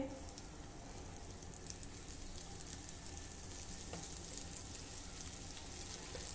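Moringa drumsticks shallow-frying in a little oil on a flat pan, a quiet, steady crackle with occasional small pops.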